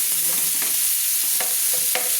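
Onion and garlic frying in oil for a fish-head curry with beans, potato and eggplant, a loud continuous hiss and sizzle with occasional soft stirring scrapes.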